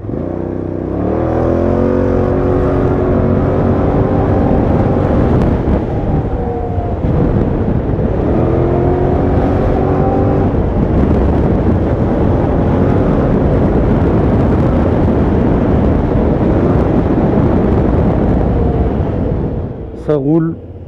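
A 2022 Kymco AK 550 maxi-scooter with an Akrapovic exhaust revs up and climbs in pitch, easing off and surging again, with steady wind noise and a voice talking over the ride.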